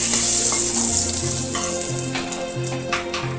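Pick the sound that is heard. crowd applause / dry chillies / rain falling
dry chillies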